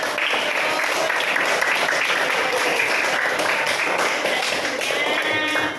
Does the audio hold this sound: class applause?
yes